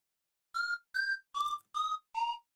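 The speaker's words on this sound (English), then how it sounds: "it's the pan flute from Mario Kart 64." Five short, evenly spaced pan flute whistle notes from the Mario Kart 64 video game, clean and breathy, each slightly lower than the last, played alone against silence.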